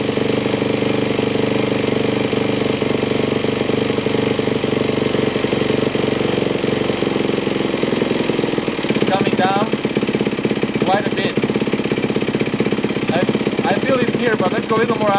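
A 4-stroke dirt bike engine idles steadily and close by throughout, a continuous low drone, while someone talks over it during the second half.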